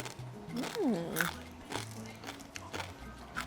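A single crunchy bite into a crisp, salty yuca chip, followed by quieter chewing crunches close to the mic, with a faint murmur around it.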